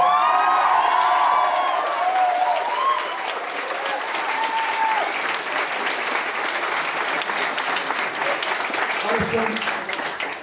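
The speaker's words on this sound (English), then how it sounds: "can I also have a big round of applause for Alison for supporting us?" Big round of applause for Alison at a college anniversary concert, a loud sustained burst of clapping from a large audience with cheers and shouts near the start, carrying on evenly for the whole stretch.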